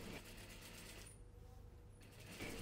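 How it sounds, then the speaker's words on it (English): A sewing machine stitches the first seam of a dropped-shoulder dress, its steady mechanical whir running close and continuous, dipping quieter through the middle before picking up again. "Let's start stitching."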